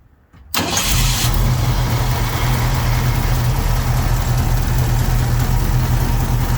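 A 1967 Ford Mustang coupe fitted with headers, an Edelbrock Performer intake and an Edelbrock carburetor cranks briefly. It then fires up and settles into a loud, steady, close-up idle with a deep rumble. No one speaks.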